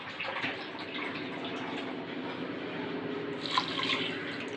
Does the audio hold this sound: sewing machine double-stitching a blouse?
no